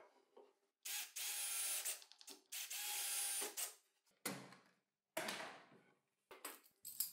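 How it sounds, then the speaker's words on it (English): Several short bursts of a power drill biting into wood while drilling screw holes for a workbench, high whining spins separated by brief pauses. "First, I drill the holes for the screws with a bit."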